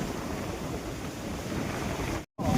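At a beach in Vietnam, waves and flowing water make a continuous wash of sound, with wind buffeting the microphone, before a short dropout.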